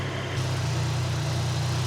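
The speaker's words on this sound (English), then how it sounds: "the stock exhaust actually does not sound bad" Triumph Street Triple R motorcycle on its stock exhaust, idling steadily with a low, even engine rumble close by and no talking.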